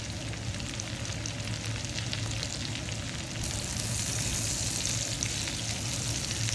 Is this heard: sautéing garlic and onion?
yes